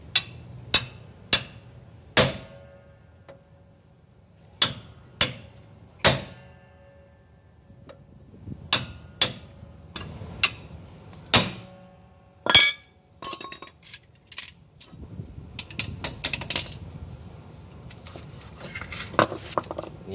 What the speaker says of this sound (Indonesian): Kita kasih palu ya, terus ketok dari atas sekeras-kerasnya nih.